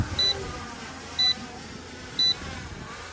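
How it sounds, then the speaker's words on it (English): A V918 Pro Max drone returning home to land emits three short, evenly spaced electronic beeps about a second apart, faint over steady wind and motor hiss outdoors. "So it starts to beep at you."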